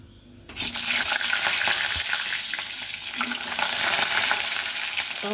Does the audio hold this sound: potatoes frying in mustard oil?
yes